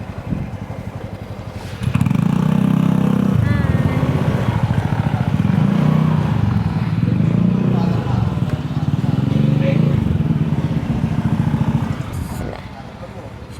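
Motorcycles and scooters pull up near a church on a group ride, their engines rumbling loud and steady for about ten seconds before easing off, with voices talking over them.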